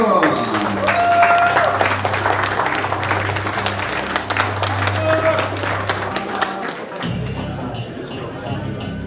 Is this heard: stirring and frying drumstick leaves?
no